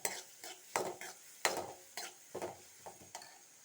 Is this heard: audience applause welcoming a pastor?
no